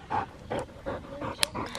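Close by, a tired dog pants in quick repeated breaths, about six breathy puffs in under two seconds, with a faint whine.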